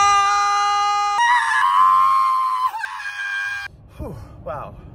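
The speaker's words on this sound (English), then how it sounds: "That hurt the muscles, like, on my scalp from how hard I just was screaming." Riders on a roller coaster at a theme park scream loudly and in sustained bursts as the train races through a tunnel, with the roar of the ride underneath and shorter yells near the end.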